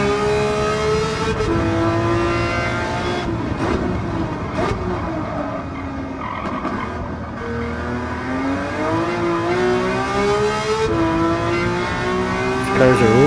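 A race car engine in a racing video game drones loudly and continuously, its pitch rising and falling through gear changes and corners across a long stretch of laps.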